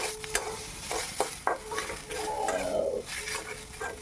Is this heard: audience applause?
no